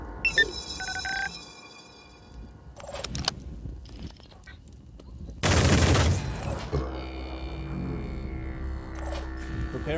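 Gunfire in the video game Phoenix Point: a dense burst of shots erupts near the middle over a background of game tones and music, then fades back to steady ambient game sound.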